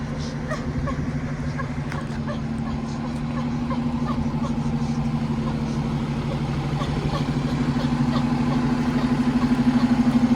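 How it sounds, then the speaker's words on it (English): A New Flyer articulated city bus engine idles nearby with a steady, low droning rumble that grows slightly louder toward the end, with faint background noise throughout. "Oh, I love the sound of that motor"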